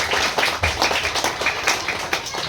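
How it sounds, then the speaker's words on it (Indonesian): Children clap together in quick scattered applause at a Maulid Nabi celebration in Helvetia, Medan, a brisk ragged patter lasting a couple of seconds, with no talking over it. "Beri tepuk tangan adik-adik kita."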